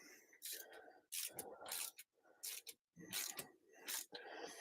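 A hand ratchet tightens a vacuum port fitting into an aluminum housing on a Holley Sniper throttle body, giving quiet bursts of rapid clicking strokes separated by brief pauses.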